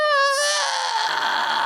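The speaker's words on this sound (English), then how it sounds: "this is what's called a fry scream in your head voice register" A single high, strained fry scream in head voice with a raspy, crackling edge, starting pitched and breaking into noisy grit over under two seconds.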